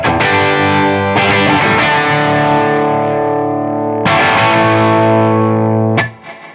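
An electric guitar played through a reverb pedal into a cranked amp rings out in two sustained, driven chords, loud and close, each decaying with a wash of reverb before a short pick scrape ends it.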